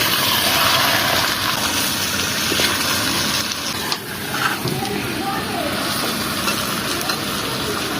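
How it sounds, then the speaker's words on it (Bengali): Chicken frying in a clay pot is stirred with a spoon, giving a steady loud sizzle with scraping strokes throughout, and a short dip in the middle. "এবার একটা নাড়তে চাড়তে থাকতে হবে"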